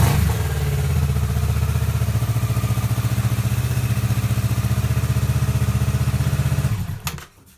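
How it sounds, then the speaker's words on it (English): A Kawasaki Z650 motorcycle engine runs steadily with a loud, even idle and a dense rhythmic beat for nearly seven seconds, then cuts off abruptly. "So the proof is starting the bike up."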